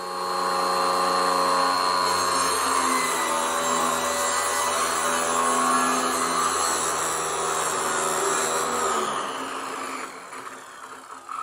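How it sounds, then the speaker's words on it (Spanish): A power saw angled to cut at 45 degrees whines loudly and steadily with a high tonal drone, then spins down and quiets near the end, with no talking. "cortes angulando la sierra hasta lograr hacer la perforación a 45 grados"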